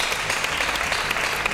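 A TV studio audience gives a brief burst of dense applause for a saz player, filling the room with a steady patter and no voices.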